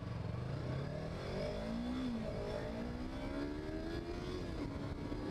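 A Yamaha R3 motorcycle engine runs at full throttle, its rising whine climbing steadily through the gears, loud and continuous, with wind rush close around it.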